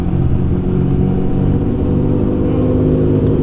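A Nissan Skyline GTR pulls up close by, its engine a loud, continuous rumble with a rising rev, heard without talking.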